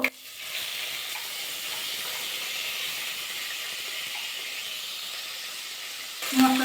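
Cumin and a ground paste of ginger, garlic, onion and cumin frying in a pan, a steady close sizzle and hiss running almost the whole time, with a louder burst at the very end.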